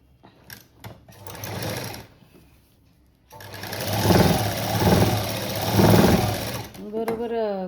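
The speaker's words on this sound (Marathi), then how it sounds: "या साईडला पाव इंच शिवून घ्यायचं" A sewing machine stitches a quarter-inch seam along the neckline of a cut-work blouse. Short stop-start bursts of stitching come first, followed by a longer run of fast, loud, rhythmic chattering close by.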